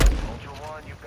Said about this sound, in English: There was a shot.